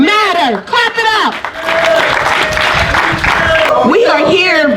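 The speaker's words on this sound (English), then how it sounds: "Clap it up." A crowd at a Black Trans Lives Matter rally at San Francisco City Hall bursts into a few seconds of dense clapping and applause, framed by a loud, amplified voice speaking before and after.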